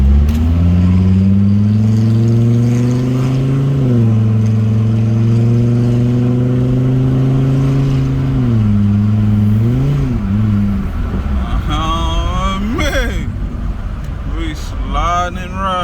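Volvo car engine with turbo humming steadily while driving, pitch rising and dropping through several gear shifts, heard from inside the cabin; a turbo whine and some clatter come near the end.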